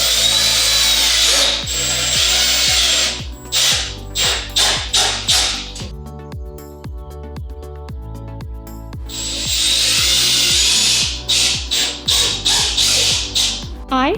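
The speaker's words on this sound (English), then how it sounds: "So then we need to lift this up and screw it in." A power drill drives screws into a wooden flower box welcome sign, with bursts of whirring motor and ratcheting clicks, a quieter pause in the middle, then more driving, loud and close.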